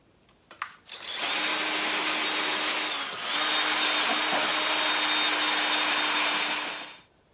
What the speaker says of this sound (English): away we go with the Forstner bit